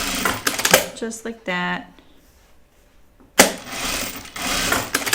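A sewing machine stitches a quarter-inch wallet seam. Someone talks first, then after a short quiet pause the machine whirs steadily and loudly nearby for the last couple of seconds.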